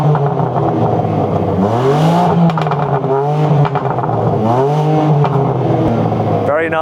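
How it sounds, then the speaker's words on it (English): A BMW M3 CS with a titanium exhaust back box revs repeatedly, loud close blips that rise and fall in a few sharp swells over a steady idle, with a voice speaking between revs. "The M3 CS has a titanium back box for its exhaust for added fruitiness."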